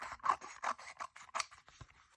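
Scissors snip through paper for a bird collage, a quick run of crisp close cuts in uneven rhythm, each short and sharp, with no voice over them.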